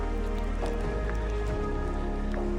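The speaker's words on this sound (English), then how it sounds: "Had a little bit of rain, just a few drops so far." Light rain falling on a hiking trail in flooded Vermont, scattered drops tapping over a steady hum, soft and close with no talking.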